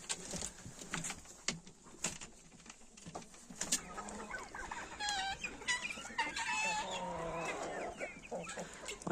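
Young ducks and a drake on a farm, giving soft quacks and chattering calls from several birds that build into a busy, overlapping flock noise partway through, fairly close and moderately loud, with no talk.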